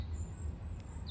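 Birds chirp in the trees of Kew Gardens in London, thin high calls threading faintly over a steady low outdoor rumble, with a brighter chirp near the end.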